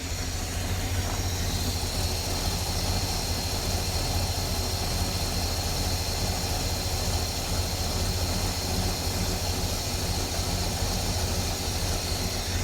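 A flooded 5.0-litre V8 in a Ford Fairlane runs steadily at idle, a continuous low rumble with broadband hiss, close and loud throughout with no talk.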